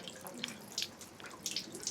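Water trickles and splashes in short bursts as hands are rinsed at a shrine's purification basin in Osaka, fairly faint, with quiet background hum.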